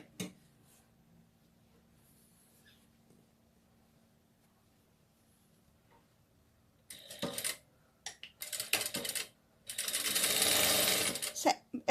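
A domestic sewing machine stitches a hem on a doll's dress, starting after a long quiet spell with a few short stop-start bursts of rapid needle chatter, then a longer steady run close by.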